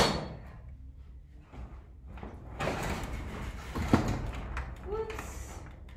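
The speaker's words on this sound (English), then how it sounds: "I'm gonna roll up the garage door" A garage door rattles and rolls up with a rumbling clatter, a metallic clank in the middle, and a voice speaking briefly near the end.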